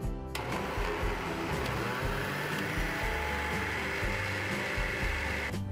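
A blender runs steadily and loudly throughout, whirring as it blends gelatin with cream cheese and pumpkin, with a dense mechanical drone and faint rhythmic pulsing. No one talks over it.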